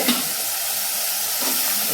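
Food for a black chickpea gravy sizzles steadily in a hot pan while a utensil scrapes and stirs through it, close and continuous.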